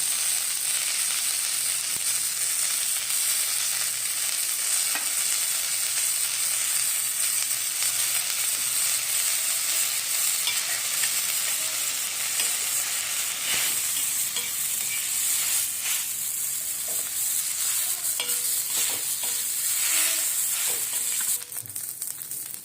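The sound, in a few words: roasting coriander and onion in pan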